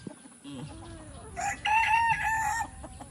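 A rooster crows loudly with a long, drawn-out call, preceded by softer clucking and low farmyard murmurs.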